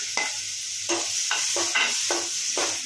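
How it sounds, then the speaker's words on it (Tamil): Ginger garlic paste sautéing in a little oil in a pan while making momos, with stirring scrapes every half second or so over a steady close sizzle. "ஆயில் ரொம்ப கம்மியாகவே ஊற்றிக்கோங்க ரொம்ப வதக்க வேணாம் நம்ம லைட்டாக வதக்கினாலே போதும்"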